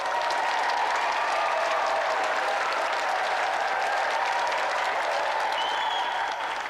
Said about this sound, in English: let's have another round of applause for our 2 brilliant competitors tonight